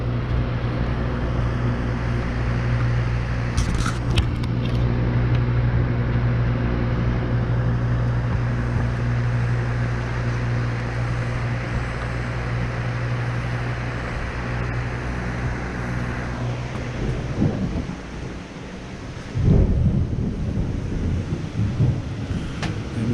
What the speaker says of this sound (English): And you hear the thunder and lightning out there.